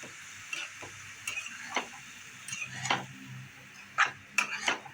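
Fresh, cleaned kolim shrimp stir-fried in a pan, with a spatula scraping and tapping in irregular bursts over a faint sizzle between strokes.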